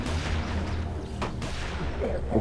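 Gunfire rings out in The Walking Dead Season 1 video game, with a couple of sharp shots over a rumbling, noisy background.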